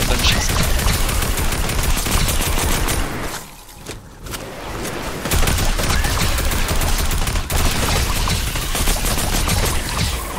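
Dense, rapid gunfire in Fortnite rattles almost without pause, loud and close, breaks off briefly for about a second, then resumes with sustained bursts.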